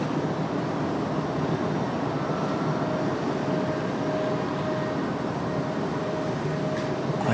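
A Southwest Airlines jet at Raleigh-Durham airport sends a steady, broad engine roar across the field, holding at an even loudness from start to end with no voices.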